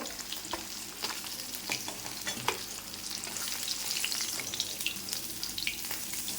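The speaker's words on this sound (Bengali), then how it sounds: "মাছগুলো উল্টিয়ে আমি দুদিন ভেজে নিয়েছি, এবার আমি তুলে নেব।" Pieces of foli fish fry in hot oil, a dense continuous sizzle with occasional scraping and turning knocks from a spatula, close and unaccompanied by talk.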